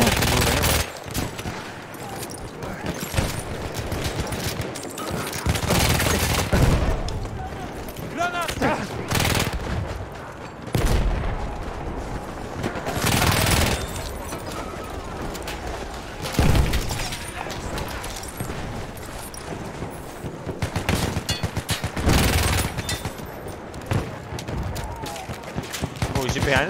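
A Villar Perosa submachine gun in Battlefield 1 spits long, loud, rapid-fire bursts again and again, punctuated by distant booms, while players chat throughout.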